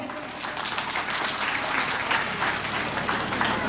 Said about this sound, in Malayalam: നല്ലൊരു കയ്യടി കൊടുത്തേ നമ്മുടെ മക്കൾക്ക്